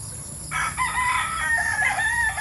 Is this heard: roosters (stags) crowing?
yes